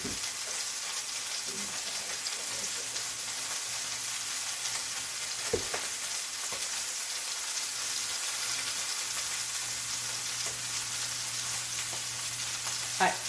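Rinsed green beans with the stem ends snapped off fry in hot oil, giving a steady, close, even hiss of sizzling that runs the whole time, with a few faint clicks and no voices.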